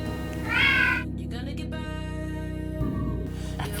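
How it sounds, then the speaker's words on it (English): A house cat gives a single clear meow near the start, rising and falling over half a second, against a steady electrical hum and low background noise. "That's the cat"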